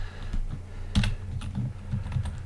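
Computer keyboard typing while entering a lookup table formula, a short burst of close, soft key taps with a sharper stroke near the middle, no voices.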